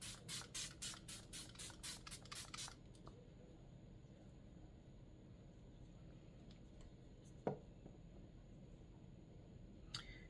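About a dozen quick hissing bursts of makeup setting spray fire in rapid succession, then give way to quiet room noise with a faint hum and one sharp click.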